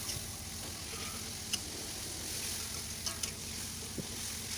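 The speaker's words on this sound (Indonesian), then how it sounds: "Lalu kita aduk-aduk sampai merata gitu, sampai air tomatnya keluar gitu ya teman-teman." Tomatoes and spices with shrimp paste are stirred as they fry in a pan, giving a soft, steady sizzle with occasional faint scrapes and taps, fairly quiet and without talk.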